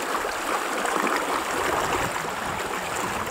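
The Razdolnaya River near Pokrovka, overflowing after three days of rain, rushes past as a steady, fairly quiet broadband wash of flowing water with no voices.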